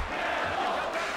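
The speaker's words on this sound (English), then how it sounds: "The crowd clearly in favor of Matt Hamill." An arena crowd at a UFC fight in UFC Undisputed 3 cheers and roars as a dense, continuous wash of voices in a brief burst.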